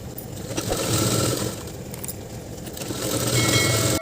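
A sewing machine runs steadily while stitching pleats on a kurta, a close continuous mechanical whir with faint metallic rattling, rising slightly in loudness toward the end.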